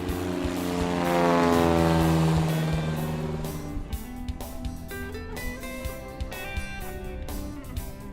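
Propeller-driven seaplane on a Québec lake drones loudly past at close range, its engine swelling to a peak and then easing into a steady, rougher hum, with no voices over it.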